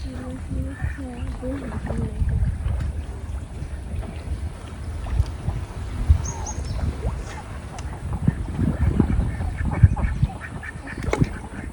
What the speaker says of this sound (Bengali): এই যে বড় আসে না চীনা হাঁসের বাচ্চা গো।